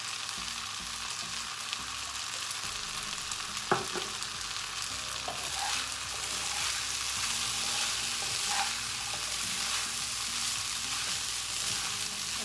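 Spicy paneer fried rice stir-frying in a hot pan with chopped coriander added, a steady close sizzle with occasional spatula scrapes and clinks, with no talking.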